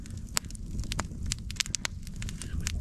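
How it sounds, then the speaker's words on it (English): Campfire flames crackle outdoors while breakfast cooks over them, with quiet, sharp, irregular pops and snaps scattered over a low, steady rumble. "I've got some flames going in there again."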